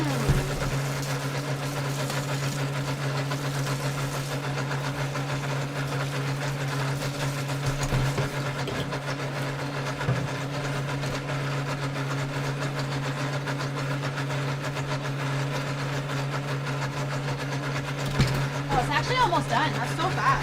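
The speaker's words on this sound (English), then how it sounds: "Listen to the relaxing ASMR of a Vitamix." A Vitamix blender whirs steadily as it churns a thick peanut butter protein mix, giving a loud, continuous motor drone with a strong low hum that holds unbroken for the whole stretch.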